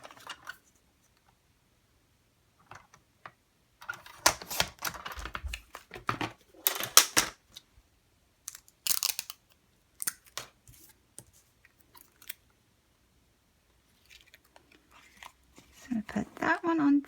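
A craft cutter slices through paper in a few short, crisp bursts, scattered among quiet pauses and handling noises, with some soft talk mixed in.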